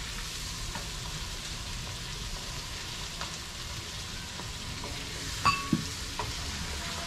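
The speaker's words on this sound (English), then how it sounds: "I'll leave it to fry and bonjour really good for a few minutes." Tomatoes, scallions and okra fry in a pot with a continuous, even sizzle and crackle, a few soft stirring clinks near the end, no voices.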